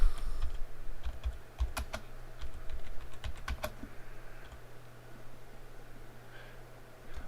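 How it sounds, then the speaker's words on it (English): Rapid keystrokes on a computer keyboard, clustered in short bursts of close, crisp clicks over a steady low hum, with pauses between runs. "Let me type it in the chat."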